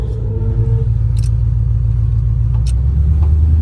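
A Fox-body car with a swapped Coyote engine pulls away, its deep engine rumble steady and loud from inside the car, with a few faint clicks and rattles.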